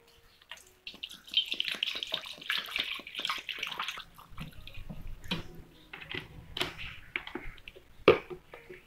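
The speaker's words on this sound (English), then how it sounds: "So now I will put some water." Water pours into a small container holding toy aquatic animals, with splashy trickling and dripping bursts up close, then quieter intermittent splashes with a low hum underneath.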